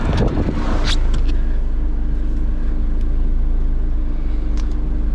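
A 2022 Subaru BRZ drifting on a wet track, its engine a loud, steady, close rumble that holds throughout with a few brief higher squeals or splashes rising above it.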